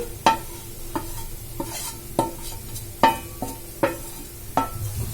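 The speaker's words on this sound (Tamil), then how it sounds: "கேரட் சேர்த்துட்டு எல்லாத்தையும் நல்லா மிக்ஸ் பண்ணிடலாம்" A spoon scrapes through fried carrot, grated coconut and sugar in a kadai, making about eight evenly spaced stirring strokes over a soft, continuous sizzle.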